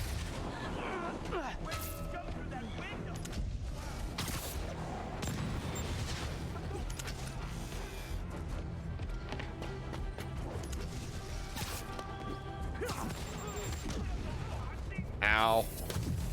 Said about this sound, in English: They got rockets!